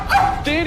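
A voice imitates a dog, giving a short yipping, whimpering bark-like call that is loud and close for under a second.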